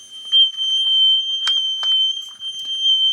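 A failed Kidde 10-year sealed lithium smoke alarm sounds a loud, piercing continuous high tone, steady throughout with a few faint clicks and knocks nearby.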